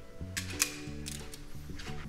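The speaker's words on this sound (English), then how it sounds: "now we are going to tighten this with the right torque" A torque wrench tightens the hub nut on a Lambretta scooter engine, giving close mechanical ratcheting clicks and creaks over a steady low hum, with sharper clicks near the start.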